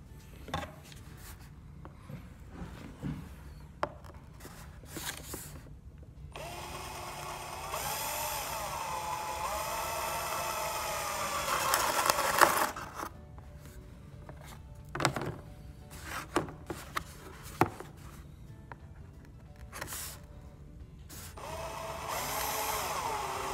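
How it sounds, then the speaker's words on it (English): A power drill with a 3/4 bit whirs through cardboard in several bursts of varying length, revving up and down with pauses and small knocks between, moderately close. "So use your drill very slowly and carefully."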